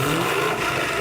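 A Chevy SS sedan's 6.2-litre LS3 V8 revs in a loud, sustained, throaty roar close by, cutting off abruptly after about a second.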